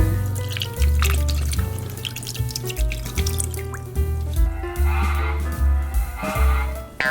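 Water runs into a pot in a home kitchen for a Korean braised pork neck and kimchi stew, a steady pouring and splashing stream that stops and starts, close and fairly loud.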